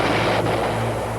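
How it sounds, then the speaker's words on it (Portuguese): A space grenade launcher fires in an animated film about conservation of momentum, a loud, dense blast with a sharp dip in the middle, filling the short moment alone with no voices. "A newtônia dispara uma granada espacial em defesa das leis do universo mecânico"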